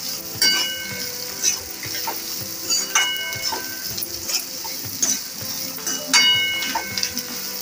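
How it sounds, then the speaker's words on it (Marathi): Roasted bitter gourd stirred into a sizzling frying pan: a low steady fry crackle broken by repeated knocks and scrapes of a spoon against the pan, close and moderately loud, no voices. "भाजून घेतलेले कारले ते त्याच्यामध्ये टाकून घेऊया. मिक्स करायचे."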